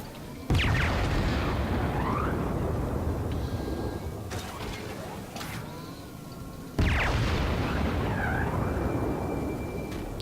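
Naval shells fire and burst in a World of Warships sea battle: two heavy, near booms about six seconds apart, each followed by a long rumbling tail and whooshing shell sounds, with no talking.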